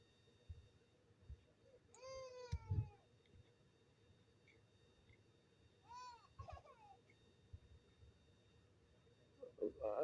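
A cat meows twice, first a drawn-out cry, then a shorter one a few seconds later, over a quiet background with faint sounds at the end.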